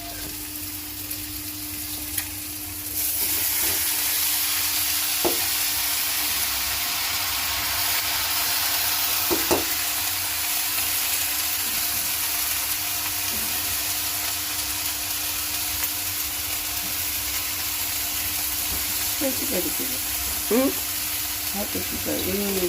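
Jute leaves frying in a pan, a continuous loud hiss and sizzle with occasional scraping taps from stirring, and faint voices in the background.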